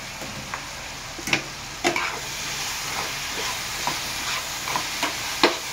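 Coriander leaves hit hot oil in a pan, giving a continuous close frying hiss broken by several sharp crackles and pops spaced through the sound.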